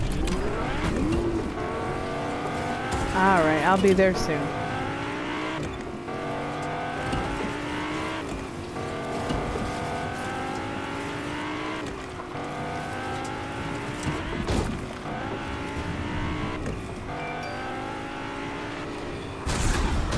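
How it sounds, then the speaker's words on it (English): Engine of a car in a video game revving and shifting through repeated rising sweeps as it accelerates, steady and fairly loud throughout, with a brief burst of tire squeal and a short line of speech over it. "I'm just getting in a car here."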